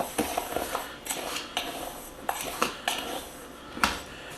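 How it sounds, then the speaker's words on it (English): Homemade ancho chili powder blend is mixed in a container, with a spoon clinking and scraping in a quick irregular series of sharp taps and rattles, close and moderately quiet, with no voices. "And then you just give it a mix."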